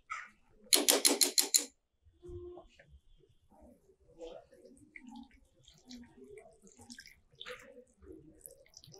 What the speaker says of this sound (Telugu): ఇవి వేసేసి ఇప్పుడు దీనికి తగ్గట్టుగా కొంచెం వాటర్ యాడ్ చేద్దామండి.